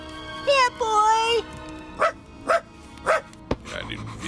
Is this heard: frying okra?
no